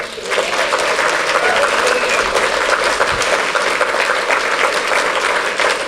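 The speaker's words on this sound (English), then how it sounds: "Can we give them a round of applause?" Steady audience applause fills a room at a charity anniversary event, a continuous wash of many hands clapping at even volume throughout with no pause.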